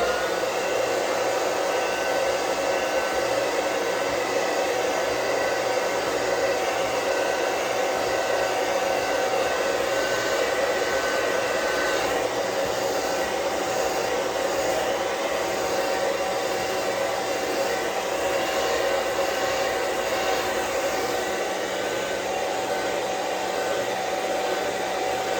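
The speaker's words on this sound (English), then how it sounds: "So now, by blow drying the beard," A hair dryer blows steadily on a beard, combed through as it dries, holding an unbroken whooshing drone close to the mic for the whole stretch with no talking.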